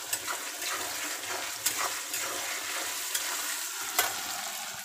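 Chicken being sautéed in a pan for a Bengali kosha dish, a continuous steady sizzle with a few sharp stirring scrapes, close and fairly loud, with no talking.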